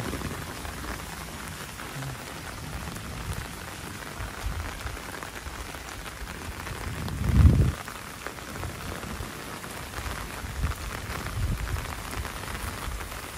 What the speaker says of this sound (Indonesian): Suasana hujan di kandang Setia Farm.